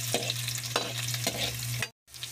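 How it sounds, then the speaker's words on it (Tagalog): Garlic and onion sauté in a hot pan for a Filipino kangkong adobo, a steady sizzle broken by several sharp stirring scrapes, ending in a brief silence before the frying resumes. "At ilagay na natin ang sibuyas. Yan, mabango na ang ating gisa."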